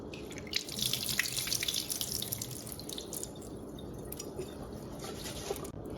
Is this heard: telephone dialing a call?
no